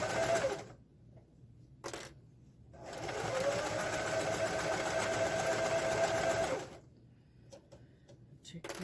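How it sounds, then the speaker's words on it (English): A domestic sewing machine back stitching the seams of a fabric drawstring bag runs in a few bursts, with a steady whirring stitch run in the middle and shorter starts and stops around it, close and clear with no talk. "I like to back stitch on the seams"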